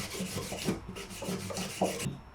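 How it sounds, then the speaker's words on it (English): Soft rhythmic rubbing, a cloth drawn back and forth across cello strings in quick strokes, wiping off rosin, faint and close. "And clean the rosin off the strings."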